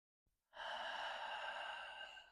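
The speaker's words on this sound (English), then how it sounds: "long, deep breath in again" One slow, long, deep breath drawn in through the nose, close and steady, lasting nearly two seconds before easing off, heard alone with no talking.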